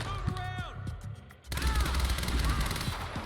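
Gunshots in the video game Quantum Break, a burst of loud gunfire with rattling impacts arriving suddenly after a quieter stretch of game sounds.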